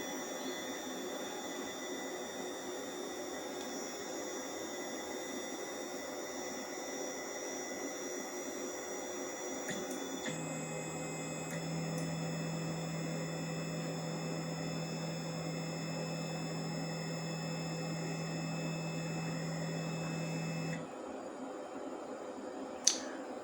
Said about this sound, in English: and then the printing it starts